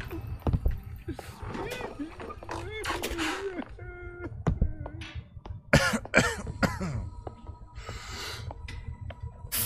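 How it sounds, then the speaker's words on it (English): A character coughs in the British folklore horror video game Maid of Sker: several rough bursts spread across the stretch, close and fairly loud, mixed with other game noises and vocal sounds. "there's areas where I'm gonna be coughing"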